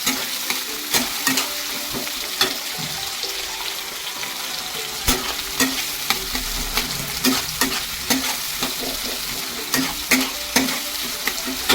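Onion and green chili fry in a pan, a steady loud sizzle broken by repeated sharp scrapes of a spatula stirring throughout, with no talking.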